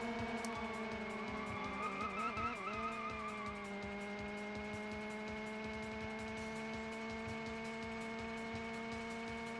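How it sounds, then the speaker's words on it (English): In a Wii racing video game, a car drifts with a sustained synthetic engine whine and tire skid that wavers in pitch early on, then settles into a steady tone, with no one speaking. "The drifting is so rewarding on here"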